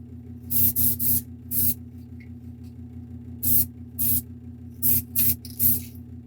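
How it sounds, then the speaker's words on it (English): Short bursts of aerosol spray paint hitting model figure parts, about ten sharp hissing puffs of varying length in an irregular rhythm, close and loud over a steady low hum. "Now you do have to make sure you spray it in all different directions"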